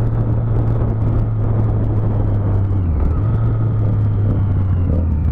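A motorcycle engine rumbles loud and close at a steady tone, with a brief dip in pitch midway as it keeps running under light road noise.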